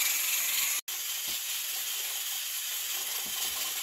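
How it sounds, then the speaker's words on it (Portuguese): A pressure cooker of green corn boils, giving off a loud, continuous steam hiss that cuts out for an instant and then carries on steadily. "A panela já começou a ferver, daí a gente vai contar 20 minutinhos."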